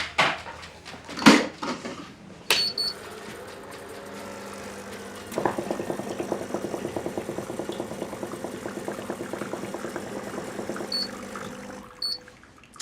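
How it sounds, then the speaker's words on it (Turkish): A coffee machine whirs and rattles steadily with a pulsing, vibrating hum, following a few clinks and a brief pour-like sound at the start. "şu kahve makinesi zangırlayıp titremeden kahvemizi yapabilirse"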